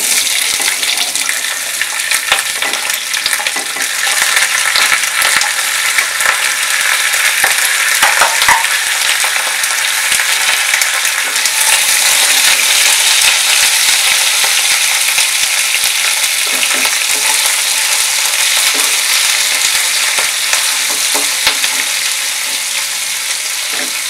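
Onions fry in a hot pan for chilli paneer, giving a dense, loud, continuous sizzle and hiss that holds steady throughout with small crackling variations and no talking.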